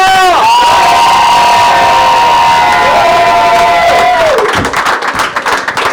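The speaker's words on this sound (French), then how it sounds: "Vous pouvez vous applaudir très fort, ça a été que de la joie." A loud crowd cheers and applauds a volleyball team's historic season, sustained shouting and whoops with children's voices mixed in, sharp clapping becoming more prominent near the end.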